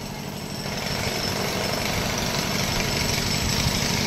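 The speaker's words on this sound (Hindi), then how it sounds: "यहाँ पर भी आप देखिए ड्रिल करके नीचे कुछ पाइप्स डाले जा रहे हैं" A steady, loud mechanical drone with rapid pounding pulses from a rig drilling into the ground to lay pipes at railway station construction work, running continuously nearby.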